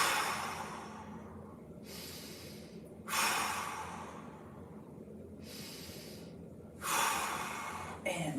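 Deep, slow breaths during a stretching routine: a few long, airy inhales and exhales, soft and close, spaced several seconds apart with quiet between them.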